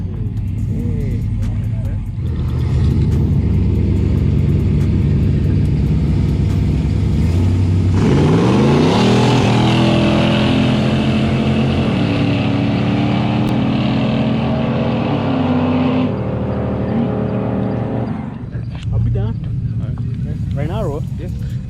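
Cammed 4x4 truck engine revving hard before a street race in Mexico, a loud, lumpy idle that climbs into a long sustained rev in the middle and then settles, with people talking nearby throughout.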